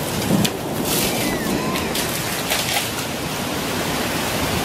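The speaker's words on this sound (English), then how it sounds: "It's hailing, guys. It's hailing." A hail storm with thunder makes a dense, constant roar of falling ice and rain, with a low rumble near the start and a few brighter impacts against the steady wash.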